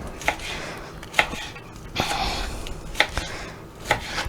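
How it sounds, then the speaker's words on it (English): A knife slices green onions on a cutting board, giving several distinct, spaced chops with soft rubbing between them, close and clear with no talking. "So just getting the green onions kind of nicely sliced up,"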